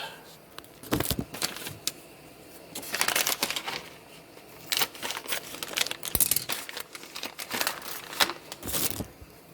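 A plastic bag of hops being cut open during a homebrew beer boil, giving bursts of crinkling and rustling packaging with a few sharp snips, fairly close and alone without talk.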